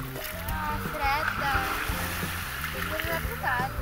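A person jumps into the sea off a beach at Cervia on a cloudy day with a red flag flying. A loud, churning splash of water rises under children's and adults' voices.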